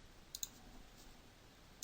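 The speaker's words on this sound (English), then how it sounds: "Double click this" Two quick faint clicks of a computer mouse double-click close together, followed by one more lone click moments later, with a quiet room hiss and no talking.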